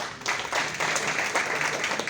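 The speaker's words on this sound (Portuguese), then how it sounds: "Uma salva de palmas, gente." Audience applause at the opening ceremony of a municipal culture conference, a short burst of steady clapping filling a hall, fairly loud and continuous.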